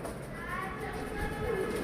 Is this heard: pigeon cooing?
yes